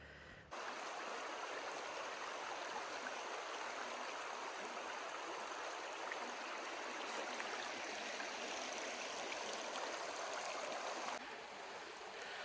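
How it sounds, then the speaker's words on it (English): Sweetwater Creek flowing past the Sweetwater Guard Station in Wyoming along the Continental Divide Trail, a steady, even rush of moving water heard alone and fairly close for most of the stretch. "here in Wyoming, here is the Sweetwater Creek"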